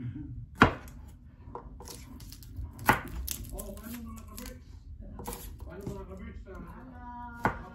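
A knife chops lemongrass in a home kitchen, with a few sharp, distinct cuts spaced seconds apart while someone talks throughout.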